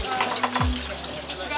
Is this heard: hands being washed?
yes